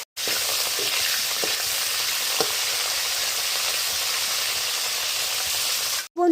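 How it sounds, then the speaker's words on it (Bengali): Cauliflower florets frying in oil in a pan, a steady loud sizzle with occasional stirring scrapes, broken by short silent gaps at the start and end. "আমি এবার কি করব, ফুলকপিগুলো ভেজে নেব"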